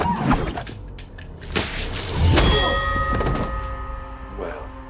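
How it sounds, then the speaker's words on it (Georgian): A bell rings out after a few knocks and thuds, its clear tone hanging and slowly fading. Voices and handling noise are mixed in. "ზარის წკრიალი მოგესმა."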